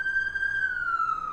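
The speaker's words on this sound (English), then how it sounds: "Another ambulance." Ambulance siren passing at an outdoor show, a steady wailing tone that slowly drops in pitch as the vehicle moves away, heard over a continuous background murmur with no one talking.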